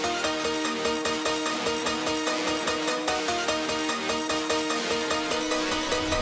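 A melody treated with iZotope Trash distortion on the Chip War preset repeats in a steady, gritty pattern over a pulsing beat, evenly loud and continuous without any voices.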